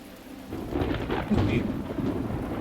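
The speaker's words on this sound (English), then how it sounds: "Oh, it's raining here." Rain and thunder in the video game The Talos Principle: a steady wash of rainfall with a deep, rolling thunder rumble that builds and stays loud, with no talking.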